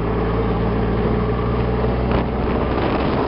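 A Kubota quad drives outdoors with a steady, loud engine drone, mixed with wind buffeting the microphone, continuous throughout and with no voices.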